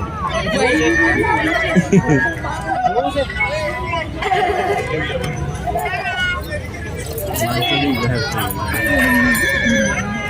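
At a horse show in Surat with mares and stallions, horses whinny loudly and close by in repeated calls over a crowd's constant chatter, with hooves faintly audible and people talking nearby.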